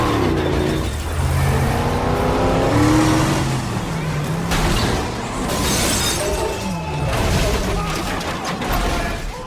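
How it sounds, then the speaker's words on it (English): Car engine revving and a crash through a side barrier at a demolition derby: loud, continuous engine noise with bursts of impact and shattering, mixed with voices throughout. "Roman revs his engine and crashes a car through the side barrier"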